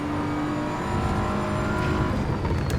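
A BMW M4 in Assetto Corsa Evo on a night lap of the Nürburgring Touristenfahrten, its engine roaring steadily and loud as the driver downshifts hard into second.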